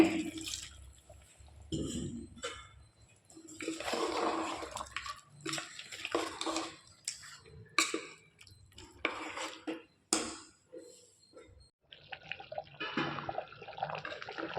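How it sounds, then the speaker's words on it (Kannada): Water is poured into chicken fry masala in a pan, heard as a close splashing pour with clinks and scrapes of a utensil against the cookware, in uneven bursts with pauses between them. "ಇವಾಗ ಸ್ವಲ್ಪ ನೀರು ಹಾಕ್ಕೊಳ್ತಾ ಇದ್ದೀನಿ"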